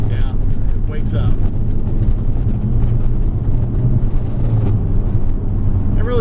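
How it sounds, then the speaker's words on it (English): A Mazda Speed3 engine pulls steadily through the gears under moderate acceleration, a continuous loud low drone with road and wind noise inside the car, and a voice talking over it. "It's just cruising it through the gears, moderate acceleration."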